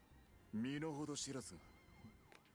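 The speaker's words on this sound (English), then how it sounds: "As the piercing wail of police sirens grows closer, we defeat the last assassin." Police sirens wail in the Love and Deepspace video game, rising and falling in a faint sweeping tone that follows a brief voiced exclamation.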